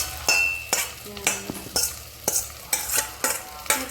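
Jackfruit curry mixture stirred in a pan, with repeated scraping strokes of a spoon against the metal every half second or so over a soft sizzle, close and fairly loud.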